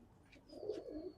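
A Giribaz pigeon gives a soft, low coo that swells briefly near the middle, close and quiet, with no voices.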